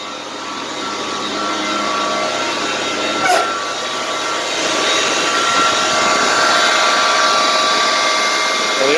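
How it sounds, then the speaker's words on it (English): Three electric motors and an alternator running together on a one-ton truck in neutral, a loud continuous whirring drone with steady tonal whine and a brief rattle partway through. "the electric motors are running, and all 3 of them are running together as one motor"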